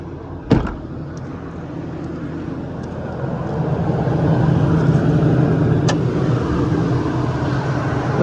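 A Ford diesel truck engine fires up with a sharp start transient, then settles into a steady, loud rumbling idle that grows slightly fuller, with a faint clunk near the end.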